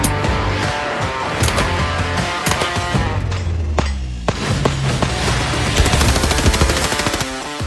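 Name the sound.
AR rifle gunshots at a BulletSafe bulletproof panel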